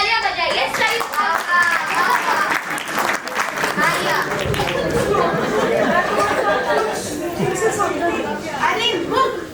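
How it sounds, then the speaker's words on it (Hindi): Audience clapping at a school annual day event for sixth-standard students, loud lively applause mixed with children's chatter and voices throughout, steady and near. "तालियां बजाइए।"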